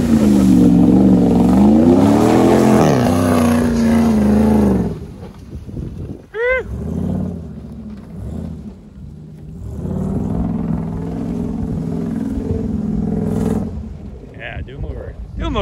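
A Dodge Dakota pickup roars and revs hard in a burnout on foggy, rutted ground, loud engine rumble rising then dropping, with people talking over and after it.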